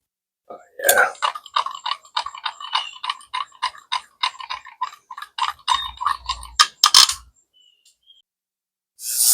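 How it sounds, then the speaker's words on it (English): An electric bug zapper kills mosquitoes with a quick run of sharp, crackling snaps about twice a second. It ends in a couple of louder, longer pops before it goes quiet. "That's the sound of mosquitoes dying in the bug zapper."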